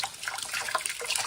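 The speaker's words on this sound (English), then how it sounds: "Just use some soapy water. And then rinse them off." Plastic parts from a '63 Mustang II concept car model kit are rinsed under a running tap, giving a steady, close splashing hiss of water with small drips throughout.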